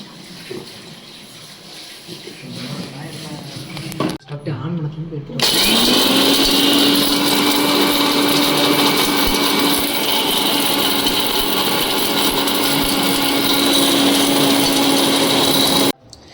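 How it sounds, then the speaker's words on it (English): A kitchen mixer grinder blending small pieces of dry coconut in its jar, a loud steady motor whine and rattling roar starting abruptly after a quieter stretch and running continuously before cutting off. "This dry coconut is cut into small piece and it is transferred to the mixer jar so that I am going to make it as a fine grated"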